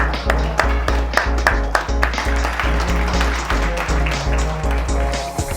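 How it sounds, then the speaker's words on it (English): Applause for an event's organizing committee at Future Mobility Asia 2022 in Bangkok, sharp scattered claps over a loud, low, rhythmic music backing. "round of applause to the organizing committee of the event"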